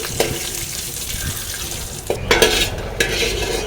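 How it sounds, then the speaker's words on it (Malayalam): Cashews frying in ghee with a steady sizzle and a few sharp scraping and stirring clatters from a pan, no voices. "അപ്പം നമ്മൾ നെയ്യിൽ അണ്ടിപ്പരിപ്പ് വറുക്ക്"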